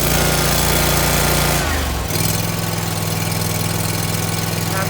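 A Scag V Ride II stand-on lawn mower engine running loud and close, a steady idle hum that dips briefly as the throttle shifts, then settles into an even throbbing idle.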